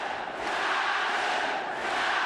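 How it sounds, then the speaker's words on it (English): Fight crowd at a Pride Fighting Championships event roaring and chanting, a loud, continuous wash of massed voices that swells slightly and holds steady. "The crowd going nuts."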